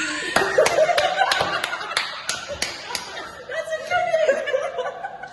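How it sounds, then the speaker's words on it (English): A workplace audience at an awards announcement breaks into scattered, sharp claps, several spaced single claps mixed with chuckles and laughter while people talk. "You can't clap before she even say anything."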